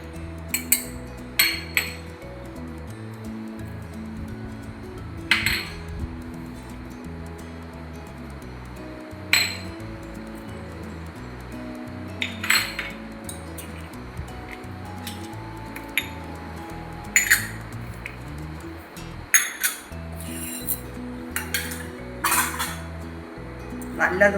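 Bonda batter of flour, coconut and yogurt mixed in a bowl: intermittent sharp clinks and knocks of a utensil against the bowl, spread irregularly over a steady rhythmic music bed.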